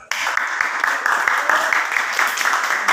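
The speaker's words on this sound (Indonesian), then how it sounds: "Berikan aplaus dulu untuk kelompok" A classroom of students claps for group 2 in an Indonesian lesson, a sustained patter of many hands after a sharp start, close and fairly loud.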